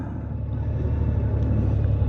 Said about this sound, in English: And we're stuck behind a garbage truck.